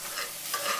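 Vegetables frying in a pan get a quick stir, a brief scraping swish over a bright sizzle lasting under a second, no speech.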